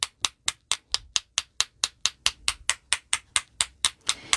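Steady rapid tapping of a Blends marker to fleck ink onto cardstock, about seventeen sharp, even knocks in a regular rhythm, close and fairly loud, with no talking.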